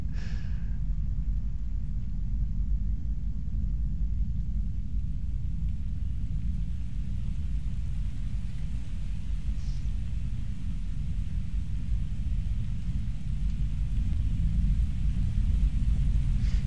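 Heavy, steady rain and a deep continuous rumble of thunder fill a video game scene, a dense low roar throughout with no talking.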